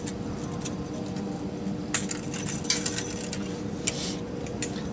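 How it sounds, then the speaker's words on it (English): A metal chain on a tractor PTO shaft guard being unclipped from its anchor point, a few light close jingles and clinks of the links over a steady background hum. "we need to just unclip the chain from its anchor point"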